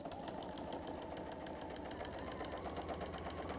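A sewing machine stitches a tablet cover with a steady, fast mechanical whirr and even needle clatter, close but quiet and continuous.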